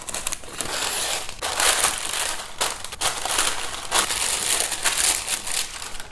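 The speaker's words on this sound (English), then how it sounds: "I am going to cut the parchment paper to size." Parchment paper cut to size for lining a loaf pan while baking banana bread, close and steady crinkling and crunching with brief pauses between passes, no talking.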